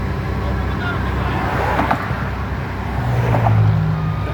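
An asphalt paving machine moves in on a road construction site, its heavy engine rumbling steadily with a deep low drone that swells near the end, over general site noise and faint voices.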